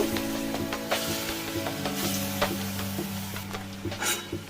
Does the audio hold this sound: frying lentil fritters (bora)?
yes